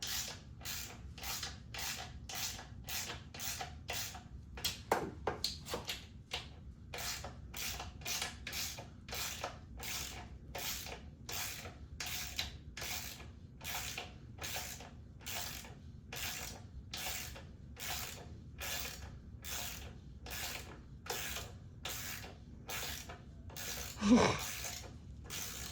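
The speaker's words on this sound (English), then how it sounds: "So we're gonna go ahead and undo the main motor mount bolt." A ratchet wrench works loose the main motor mount bolt on a Kawasaki ZX6R during a crash cage install, sounding as a long run of steady, close clicking strokes with a brief clatter near the end.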